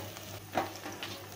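Chopped coriander sautés in a pan, a soft, faint sizzle with a few light stirring scrapes over a low steady hum.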